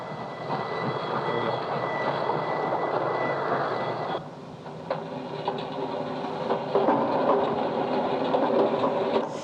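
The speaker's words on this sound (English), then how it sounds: "putting together a piece of music out of train sounds" A continuous rumbling roar of a passing train, steady and fairly loud with a brief dip partway through, no voices.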